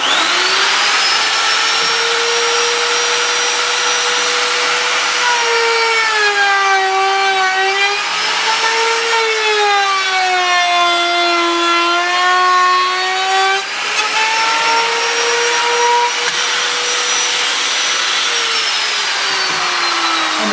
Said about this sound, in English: the plunge router goes down to the level that I've set it at, just to the edge of the wood